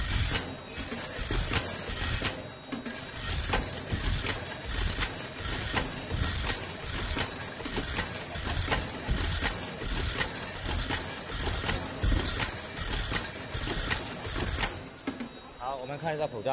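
A 1+1 face mask making machine runs with a regular rhythmic mechanical cycle of repeated clunks, about one every second, loud and close, before stopping near the end.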